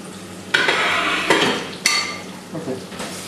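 Onion frying in a pan with a pinch of fenugreek powder, stirred in several scraping bursts of sizzle with utensil clatter against the pan, close and fairly loud, no talking.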